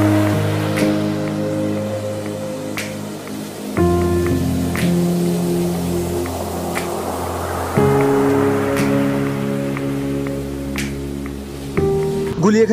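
Sea waves wash in steadily on the beach at Guliakhali, Sitakunda, a river-mouth shore in Chittagong, as a broad, continuous surf hiss under a prominent sustained musical drone.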